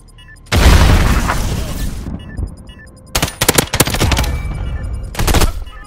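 A grenade detonates in a military training exercise with a loud, booming blast and long rumbling tail, followed by bursts of sharp gunfire cracks close by.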